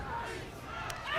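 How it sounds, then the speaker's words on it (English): Crowd at a rugby match between San Diego and New England shouting in a steady, loud roar that swells toward the end, a chant rising over the general noise. "Crowd shouting"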